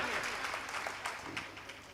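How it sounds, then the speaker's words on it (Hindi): A crowd claps at a lively Hindi stage performance, brisk overlapping applause at a steady level for a couple of seconds. "एक बार जोरदार तालियां बजाइए"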